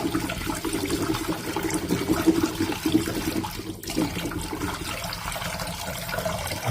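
Water sloshes and swirls as rice is rinsed in a container close by, a continuous churning splash with a brief dip partway through.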